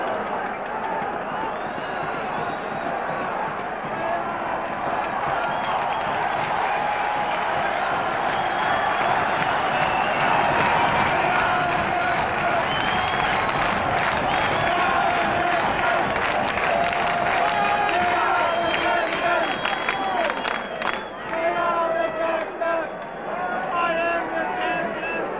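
Stadium crowd at a 1989 Auckland versus Australia rugby league match roars and cheers continuously after a conversion kick, a broad sustained wash of many voices with rising swells and scattered applause throughout.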